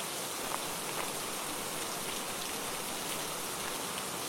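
Steady rain pours down in a cartoon scene, a dense, even hiss of falling drops with occasional louder patters, continuous and close throughout with no voices.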